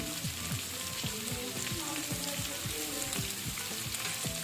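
Green chillies and garlic fry in hot oil for tomato chutney, a constant close crackling sizzle with rapid, rhythmic stirring taps throughout.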